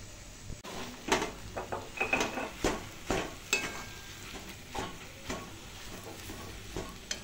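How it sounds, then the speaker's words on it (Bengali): Potato and onion are stirred with fried spices in a wok for Bengali egg chop filling. Soft sizzling runs under irregular scraping strokes and knocks of the spatula against the metal, close and quiet, with no voices. "এখন আবার বেশ কিছুক্ষণ নাড়াচাড়া করে নেব।"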